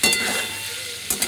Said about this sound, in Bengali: দেখুন হলুদ নুন দিয়ে বেগুনগুলো ভেজে নেব।